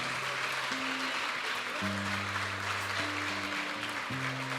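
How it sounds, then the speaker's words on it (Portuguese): A church congregation applauds during a worship service, a steady dense wash of clapping filling the room while sustained organ or keyboard tones play underneath. "Você pode aplaudir a Deus nessa hora."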